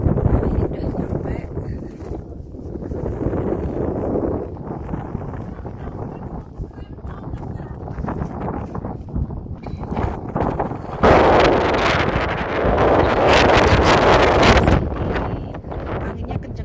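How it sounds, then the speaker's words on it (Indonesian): Strong wind buffeting the microphone at the rim of Ijen crater, a loud rumbling roar that surges and gusts harder toward the end. "Anginnya kenceng banget, teman-teman."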